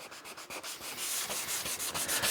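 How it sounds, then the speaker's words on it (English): Sandpaper scuffs a 3D printer build surface in quick, repeated rubbing strokes, close and steady, growing slightly louder and denser toward the end. "we're just scuffing it. And I'll show you. We're trying to get a nice scuff everywhere."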